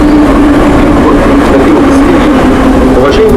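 A metro train sound installation plays in a concrete corridor, a loud, steady rumbling train drone with a sustained low hum, like a carriage running along rails, filling the space throughout.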